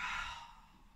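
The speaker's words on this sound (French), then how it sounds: "J'inspire avec le nez et je souffle avec la bouche." A single steady breath blown out through the mouth during a Pilates breathing exercise, loud and breathy at the start and fading over about a second, with no talking.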